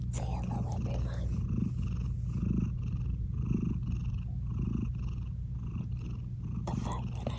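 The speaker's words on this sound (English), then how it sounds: "The fact that I'm purring is a great big deal." Close, steady cat purring runs continuously in a rhythmic rumble, with soft whispery voice sounds drifting over it.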